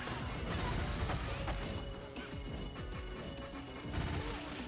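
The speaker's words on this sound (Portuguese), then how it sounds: "Essa Blaze tem uma metralhadora no braço" Blaze firing an arm-mounted machine gun in the video game Streets of Rage, dense rapid bursts of gunfire and crashing impacts mixed with game effects, loud and continuous for a few seconds.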